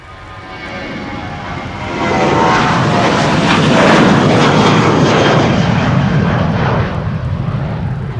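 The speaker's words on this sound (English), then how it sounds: "Next up will be KLM flight 705, a 787-10 Dreamliner to Rio de Janeiro." A KLM Boeing 787-10 Dreamliner takes off from Polderbaan runway 36L at Amsterdam Schiphol during rain showers, its loud jet engine roar swelling to a powerful sustained rumble and staying close and continuous throughout.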